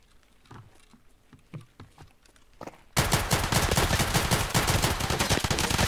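Rapid automatic gunfire in the Escape from Tarkov video game, a few scattered shots at first, then a dense, loud sustained burst of rattling fire for the last few seconds.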